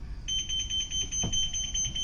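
A school bus anti-theft alarm beeps in a fast, steady pulsing tone, loud and continuous over a low engine hum.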